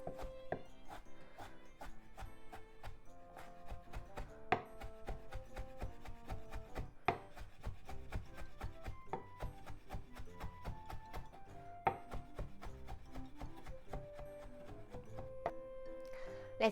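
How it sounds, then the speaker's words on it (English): Knife mincing ingredients for niku dango meatballs on a cutting board, a fast run of sharp, close chops with a few louder strikes, under steady background music. "And mince."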